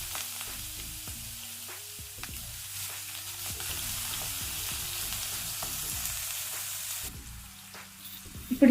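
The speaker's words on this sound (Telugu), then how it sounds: "ఈ ఉల్లిపాయలంతా కూడా మంచి బ్రౌన్ కలర్ వచ్చే వరకు వేయించుకోవాలి." Chopped onions frying in a pan, a loud continuous sizzle with occasional stirring clicks, heard alone without talking.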